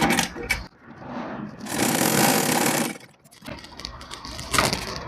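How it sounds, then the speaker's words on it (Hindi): A sewing machine running a straight seam along a blouse, its motor whirring in bursts with a long continuous run in the middle, close and fairly loud, no voices. "और अब इस पर भी सिलाई लगा लेंगे। इस पर हमें एकदम सीधी सिलाई लगानी है।"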